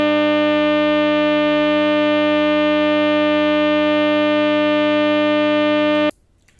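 A small electric motor runs at 12 volts, its maximum rated voltage, giving a steady, loud, pure-toned whine with rich harmonics that holds constant for about six seconds and then cuts off abruptly, with no talking.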